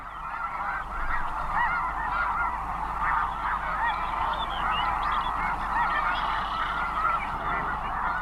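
Snow geese fly in pairs over North America and honk in a dense, steady chorus of overlapping calls that carries on without a break, moderately loud and slightly distant.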